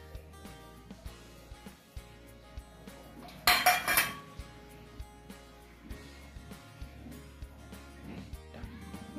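A spoon clinks and scrapes against a bowl as a sabudana vada mixture with crushed roasted peanuts and chillies is mixed, with small repeated taps and one brief louder rattle.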